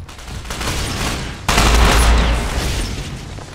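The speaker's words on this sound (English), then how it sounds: "There's seriously somebody trying to snipe me with a shotgun." Gunfire rattles in Ghost Recon Online, with a steady stream of shots followed by a sudden, louder, close blast that booms and then tails off.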